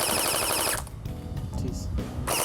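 WeiHui F4 gel blaster rifle firing on full auto: a loud, close, rapid mechanical burst, a brief pause with handling noise, then another burst starting at the end.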